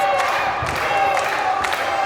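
A crowd at a pro wrestling show in Dunn, North Carolina, making a steady roar of cheering and clapping, with sharp thuds from the ring now and then, heard throughout.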